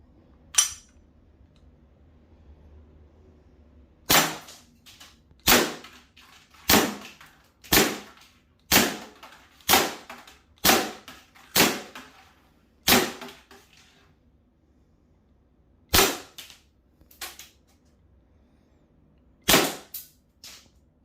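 Air pistols, a 4-joule Gamo PT85 firing 4.5 mm pellets and a 2-joule Walther, are fired at a metal plate: about a dozen sharp, evenly spaced shots with ringing impacts, loud and close, between quiet gaps.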